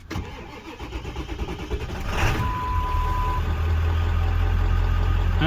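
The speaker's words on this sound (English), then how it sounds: "we're gonna start the truck up and see if my glow plugs, or not my glow plugs, but my heater is working" A pickup truck in cold winter weather cranks over with a rapid chugging starter whir, catches after about two seconds and settles into a loud, steady idle rumble, close by and with no talking.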